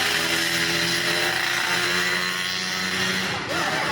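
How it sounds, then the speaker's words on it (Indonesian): Motorcycle engine passing outside, a loud, steady droning whine with harmonic tones that holds for a few seconds and then eases slightly. "ada suara motor Pak"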